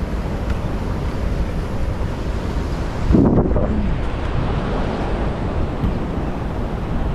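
Sea waves wash in at high tide under heavy wind. Broadband surf roars steadily while gusts buffet the microphone, with a brief louder surge in the middle and no speech.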